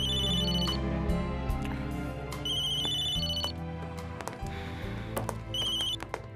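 A telephone rings indoors with a bright electronic ringtone repeating in short melodic bursts, close and clear, with no talk over it.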